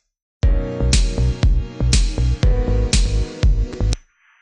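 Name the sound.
clap sample with heavy reverb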